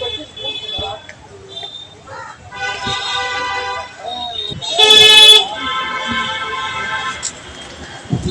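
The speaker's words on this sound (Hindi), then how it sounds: "एक लंबी कतार गाड़ियां लगी हुई है।" A long queue of vehicles stuck in a traffic jam in Patna honks repeatedly, with car horns tooting near and far, one loud blast standing out midway, while someone talks over the noise.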